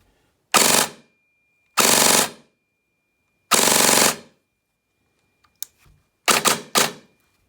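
VFC UGRI M4 airsoft rifle firing: three separate short bursts of rapid snappy shots, then a pause with small clicks and two quicker closely spaced bursts, loud and close with no talking.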